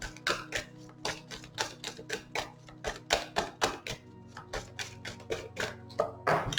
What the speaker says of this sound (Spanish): yo voy a barajar los números del 1 al 9